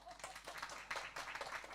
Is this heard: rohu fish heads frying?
no